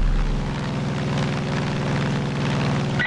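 A propeller plane flying low in Far Cry 5, its engine giving a loud, steady, close drone with a throbbing pulse that holds unbroken from start to end.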